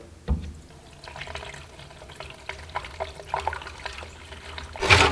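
Two-stroke fuel mixture poured through a funnel into a new leaf blower's tank, a soft trickling and gurgling liquid stream, close and quiet, ending with a louder clunk.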